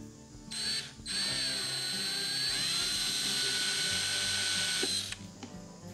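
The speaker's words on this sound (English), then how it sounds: "Drill us a tiny hole at each corner." A high-pitched drill whines steadily for several seconds, starting and stopping abruptly, with a thin grinding edge as it bites into a metal ammo box, drilling tiny corner holes.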